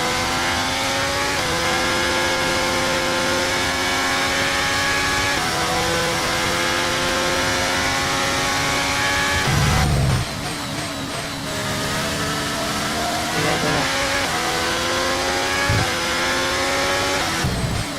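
A Formula 1 car's engine screams and shifts through the gears in the F1 23 video game at the Scottish Grand Prix, the loud high whine dipping sharply under braking into turn 1 before climbing again.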